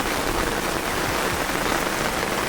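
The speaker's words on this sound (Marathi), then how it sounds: "ती नुकती रुजता आणि पाऊस सुरू झालो" Heavy May rain falls close by on a kitchen garden in Devgad, Konkan, drumming on a surface in a dense, unbroken wash of sound.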